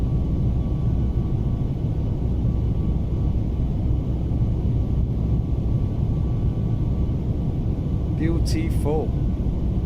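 An iFly 737 MAX 8 jet departing in Microsoft Flight Simulator 2020, a steady, loud low engine roar and rumble throughout, with someone briefly speaking over it near the end.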